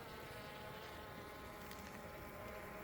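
Honeybees swarming over an open frame of a hive with a new queen, a steady dense buzzing hum that holds evenly from start to finish.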